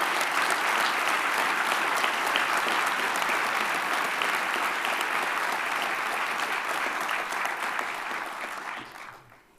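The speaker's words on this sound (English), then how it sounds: "Can we take a moment to give another round of applause for this evening's awardees and recipients?" A large audience at a university alumni awards celebration gives sustained applause for the evening's awardees, a dense, even roar of clapping that holds steady for several seconds before fading out at the end.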